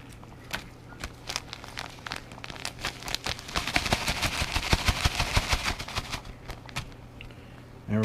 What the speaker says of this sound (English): Just cut the bag like so.